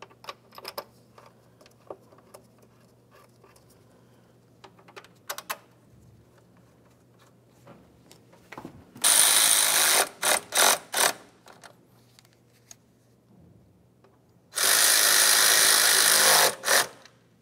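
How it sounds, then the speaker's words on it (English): A ratchet tightens fan shroud mounting nuts on a 2004-2015 Nissan Titan during a radiator fan clutch replacement: scattered light clicks, then two loud sustained whirring bursts up close. "we can continue tightening our mounting nuts."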